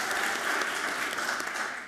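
Steady audience applause at a university distinguished alumni awards ceremony, a dense continuous wash of many hands clapping at even loudness for the whole stretch, with no voices over it.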